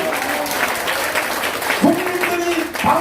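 An audience at a crowded political rally in Gwanghwamun claps in a sustained wash of applause, with a speaker's voice and scattered shouts heard over it.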